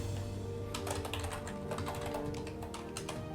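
Quick bursts of typing on a computer keyboard as a chart template is named in Excel, a rapid run of light clicks over a steady low hum, moderately close and free of speech.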